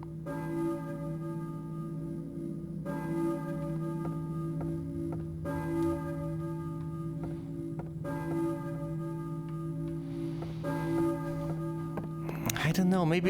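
Church bell tolling in the video game Silent Hill 1, repeated strikes roughly every two to three seconds with long ringing tones over a steady droning ambient hum, a burst of noise at the end.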